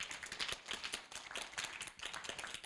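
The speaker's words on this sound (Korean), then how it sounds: "박수로 맞이해 주시기 바랍니다." A university event audience claps to welcome a presenter, steady close applause with distinct individual hand claps running throughout the short stretch.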